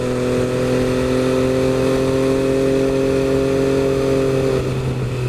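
MV Agusta F3 800 on a test ride, its engine a loud sustained drone with strong tonal harmonics that eases and drops in pitch near the end while slowing and shifting down a gear, no talk.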